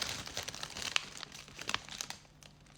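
Plastic Aldi shopping bags from a supermarket in the Netherlands rustle and crinkle steadily up close, with a few sharper crackles as the bags are handled, and no talk over them.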